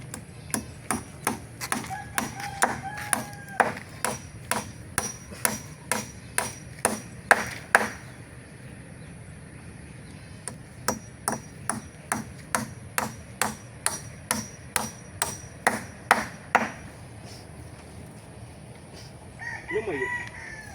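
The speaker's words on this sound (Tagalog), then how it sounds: "Pako lang ng pako." Steady hammer blows driving nails while patching a roof or wall, sharp regular knocks in two long bursts, with a rooster crowing repeatedly in the background and brief voices near the end.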